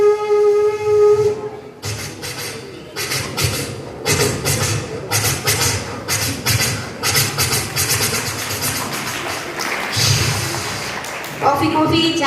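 At a school reopening ceremony, performers use their voices to imitate an old steam train approaching from afar: a whistle-like wail, then loud rhythmic chuffing bursts and hissing that build and repeat. The whistle returns at the end.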